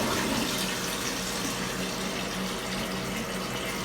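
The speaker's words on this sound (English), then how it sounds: "now every now and again, I just flush and make sure we don't have overflowage" Water flushing through a hose into a fish tank, a steady moderate gush and pour that runs unbroken throughout, fairly close and without any talk over it.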